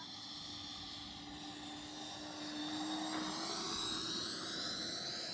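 An E-flite Viper 90mm electric ducted-fan RC jet makes a slow flyby with full flaps, its steady whine holding a constant pitch and swelling slightly louder midway as it passes at a moderate distance, with no talk.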